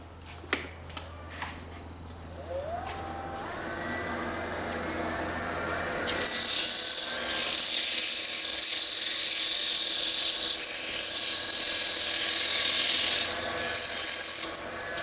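80 grit sandpaper held against spinning wood on a lathe while shaping and hollowing, a steady hiss and rub that grows much louder partway through under the lathe's faint motor whine, with no talk.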